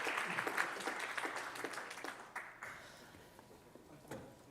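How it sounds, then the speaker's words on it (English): Audience applause for a keynote speaker at a conference on women's rights in Kraków, a room of people clapping with distinct individual claps, loudest at the start and gradually thinning out. "So big applause to Zita with her keynote speech."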